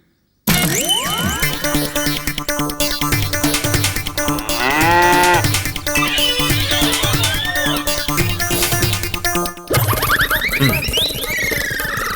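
A cow moos loudly and repeatedly at close range, with long drawn-out calls that rise and fall, followed by a brief pause and then another bellow.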